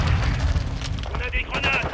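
A grenade in the Modern Warfare 2 solo campaign goes off in a deep, rumbling boom at the start. An excited voice shouts over and after the blast.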